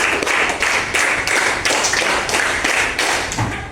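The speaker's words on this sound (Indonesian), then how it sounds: "tepuk 5 2 kali" A classroom of fourth-grade pupils claps in unison, giving five quick sharp claps twice in a steady even rhythm, loud and close, with no talking over it.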